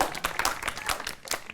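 Audience clapping at a stand-up comedy show, a short burst of uneven, close claps from a small crowd, lively and fairly loud.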